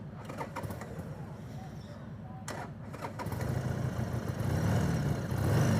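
Harley-Davidson Sportster motorcycle engine starting and settling into a steady low idle, a rhythmic rumble that grows louder over the last few seconds.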